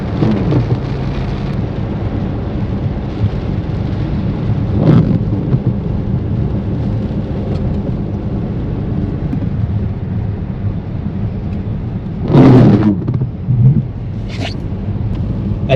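Steady rain falls in the Vosges mountains near a village, a broad constant hiss with a few brief louder gusts or rumbles breaking through, no voices.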